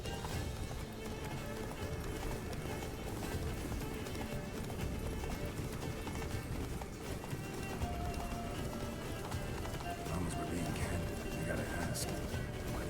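A horse gallops with steady rapid clip-clop hoofbeats in The Witcher 3 during a chase, running continuously under voices talking throughout.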